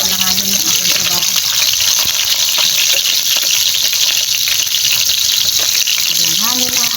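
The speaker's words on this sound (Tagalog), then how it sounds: "Nakaprito ako eh." Food frying in a pan for a simple home-cooked Filipino dinner dish, a loud continuous sizzle and hiss throughout with brief clinks of stirring, and a person speaks intermittently over it.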